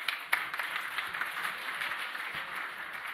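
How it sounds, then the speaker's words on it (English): Applause from an audience at a talk, a brief round of clapping of moderate loudness that holds steady for a few seconds. "We all owe you a tremendous round of applause for your effort."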